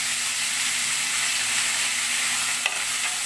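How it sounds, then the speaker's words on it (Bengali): Vegetables with bitter gourd and onion frying in a pan, a dense continuous sizzle heard close and loud, with one brief clatter near the end. "দিয়ে আমি ভাজা ভাজা করে নেব"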